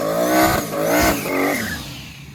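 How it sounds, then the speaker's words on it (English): A car does a burnout at a drag race, engine revving in three rising surges with tire squeal layered on top, loud and close, then fading out. "That was a solid burnout."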